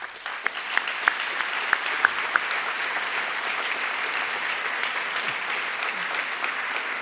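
Audience applause at a fire station inauguration in Vittorio Veneto fills the space with dense, steady clapping, a few sharper claps standing out near the start, with no talk over it.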